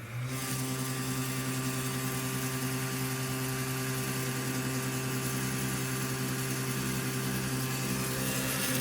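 An electric motor and heater switched on together during a voltage test, giving a steady, even mechanical hum with a constant drone that holds unchanged throughout.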